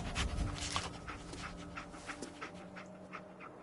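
Dogmeat, the dog companion in Fallout 4, pants close by in quick rhythmic breaths, with faint whimpers over a low game ambience.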